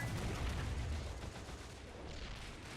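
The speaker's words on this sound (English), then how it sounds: "Oh, this is such a barrage." British howitzers fire a barrage in the WW1 battle game Men of War: Assault Squad, dense overlapping booms and rumbling blasts that start heavy and loud, then thin out into more distant gunfire.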